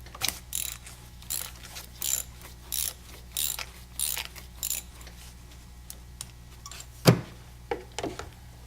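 A ratchet wrench clicks in repeated short bursts while a spark plug is removed from a 2010 Chevy Traverse, close and crisp, followed by a louder metallic clunk and a few lighter taps.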